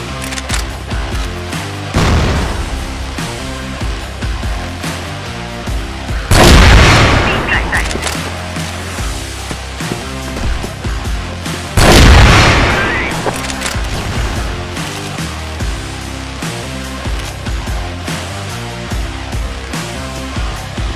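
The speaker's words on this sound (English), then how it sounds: "Flash bomb." Flash bomb grenade blasts and gunfire in the CrossFire shooter game, with three loud booming explosions spaced several seconds apart over a steady bed of rapid gunshots and game noise.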